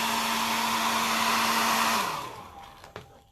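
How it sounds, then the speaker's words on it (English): A steady, loud hair dryer blows for about two seconds, then is switched off and winds down, followed by a couple of faint clicks. "So it helps to have a hair dryer next."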